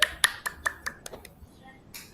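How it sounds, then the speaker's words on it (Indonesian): Classroom applause for a student group after their presentation sounds as a handful of sharp, evenly spaced claps at first, then thinning into softer, scattered pats with a few more crisp claps near the end. "tepuk tangan untuk kelompok 2"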